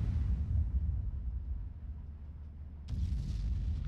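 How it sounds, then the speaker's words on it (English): A unit's death explosion in the Nomads mod for a strategy video game: a deep rumbling boom with a sharp burst near the end, moderately loud, heard alone without talk. "and explosion."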